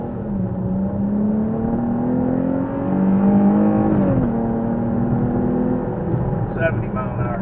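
A 2023 Dodge Challenger V6 revs hard during a brake stand, its engine drone climbing and surging loudly, then easing off near the end.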